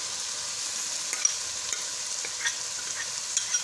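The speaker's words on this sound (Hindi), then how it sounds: "अब हम इसमें टमाटर ऐड करेंगे।" Tomatoes and onion hit a pan of frying chicken jalfrezi, giving a steady, soft sizzle with a few light clicks and scrapes of stirring.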